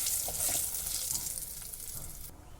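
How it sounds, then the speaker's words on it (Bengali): Bay leaves and dried red chillies fry in hot prawn oil in a pan for a Bengali jackfruit curry, giving a steady close sizzle with soft stirring scrapes that stops abruptly near the end. "দুটো তেজপাতা দুটো শুকনো লঙ্কা দিয়ে ভালো করে নাড়াচাড়া করে ভেজে নিলাম"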